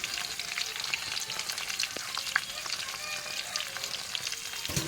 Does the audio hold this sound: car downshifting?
no